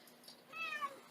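A single kitten or cat at a rescue clinic gives one short rising-falling meow, clear and fairly close against a quiet room.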